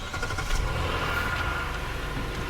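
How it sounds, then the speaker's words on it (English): A Hyundai Palisade engine runs at a steady idle, close and loud, with a continuous low rumble and no voices. "So now we're gonna go ahead and just start the vehicle."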